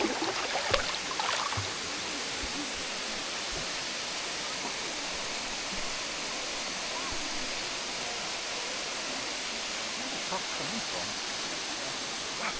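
Waterfall at Bamboo Creek in Australia's Top End, a dense, continuous roar of falling water heard up close and loud, steady throughout with no talk.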